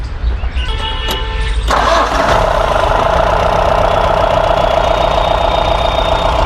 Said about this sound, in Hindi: अब करवाते हैं उस्ताद से स्टार्ट गाड़ी को।